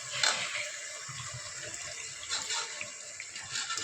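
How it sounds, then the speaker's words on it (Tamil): Water poured into a cooking pot of vegetable biryani with rice and yogurt, a soft continuous splashing stream, fairly quiet and close, with a couple of brief louder gushes. "இப்போ நான் தண்ணி சேர்த்துக்கிறேன்."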